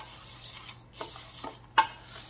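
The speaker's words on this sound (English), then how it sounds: "Okay, so we're gonna give this a stir." Spoon stirs dry oatmeal batter ingredients, including salt and cinnamon, in a bowl, giving soft scraping swirls and a few sharper clinks against the bowl, close and quiet with no talk.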